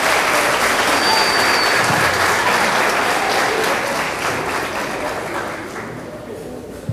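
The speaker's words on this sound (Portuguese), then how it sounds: "a quem eu peço uma salva de palmas" Sustained applause from an audience at a school martial arts presentation, loud and dense at first, then slowly tapering off over several seconds as a voice murmurs beneath it.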